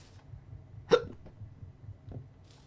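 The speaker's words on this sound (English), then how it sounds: "I'm really irritated right now because I hate having hiccups." One sharp hiccup jumps out of a quiet room, followed by a fainter second one a moment later, with no speech.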